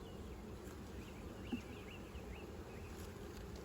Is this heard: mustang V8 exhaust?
no